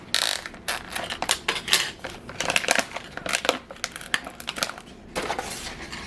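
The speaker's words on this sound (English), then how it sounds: "let's go ahead and start taking the buttons off. Again, this is a hot peel" Hot-peeled heat transfer vinyl film comes off craft buttons in a quick run of sharp crinkles and crackles, with faint clicks of the buttons being handled, close and with no talking.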